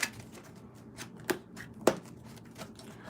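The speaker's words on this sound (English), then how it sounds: "Okay, one more shuffle." Tarot cards are shuffled quietly nearby: soft riffling and papery flicks with a couple of sharper snaps, no talking.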